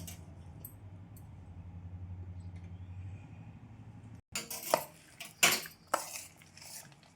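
A spoon scrapes and clanks in a bowl as spiced wheat flour batter with green chilli and fenugreek is mixed, starting after a quiet hum and coming in loud, irregular bursts.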